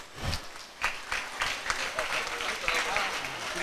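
Students clap for award recipients at a Kamarajar birthday celebration, a scattered, uneven round of applause with distinct individual claps standing out, moderately loud and fairly close, with voices mixed in.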